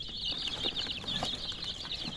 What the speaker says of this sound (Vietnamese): hiện tại bên em có khoảng 60 con gà ốm hơn 10 ngày tuổi nha